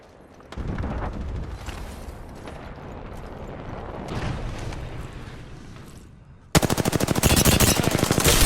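Gunfire rattles through a first-person shooter battle in the video game Apex Legends, starting with a loud sustained burst. A denser rapid automatic stream breaks in near the end, and nobody talks.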